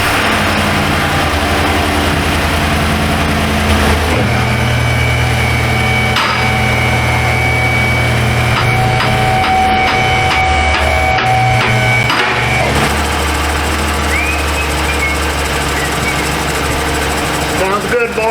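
A 2020 GMC 2500HD pickup with a 6.6-litre engine idles steadily after a broken exhaust manifold bolt repair, a close, even rumble with light ticking and occasional knocks, while people talk nearby.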